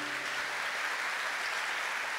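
A church congregation applauding, a steady, dense wash of clapping from many hands that holds at an even level throughout, with no voices heard.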